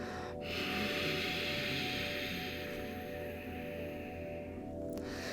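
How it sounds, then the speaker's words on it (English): A single long, breathy exhale with a soft, ocean-like hiss, steady and close, lasting several seconds. "Pranayama breath, or the ocean breath."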